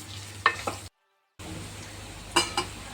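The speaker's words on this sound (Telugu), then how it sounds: "కాసేపు వేయించుకోండి. అందులోనే వెల్లుల్లి రెబ్బలను కూడా యాడ్ చేసుకొని కాసేపు బాగా మగ్గనివ్వండి." Garlic cloves frying in a pan for raw mango chutney sizzle softly, with a few sharp utensil clinks and a brief moment of silence partway through.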